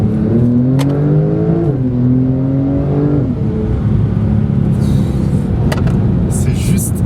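A Porsche 911 Turbo S of the 992 generation, with 650 hp and set in Sport Plus mode, revs up close and loud, its engine note climbing and then settling into a steady, powerful roar.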